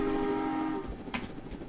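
A train horn in the Roblox game Jailbreak sounds one sustained blast that cuts off, followed by scattered rumbling and a few sharp knocks.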